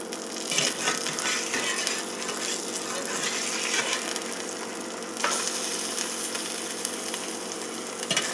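Eggs frying on a hot skillet give a steady, dense crackling sizzle throughout, close and fairly loud, with small spatters and pops and no voices.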